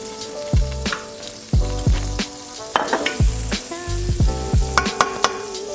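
Oil sizzling loudly in a frying pan for French toast, with a constant crackle broken by repeated sharp knocks and clatters of the pan and utensils, heard up close with no voices.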